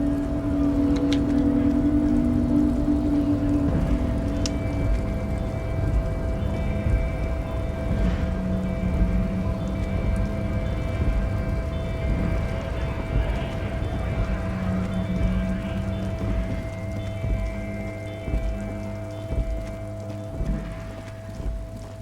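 Rain falls steadily in the video game Disco Elysium, a constant wash of patter over low engine-like hums and a sustained tone, with no one speaking.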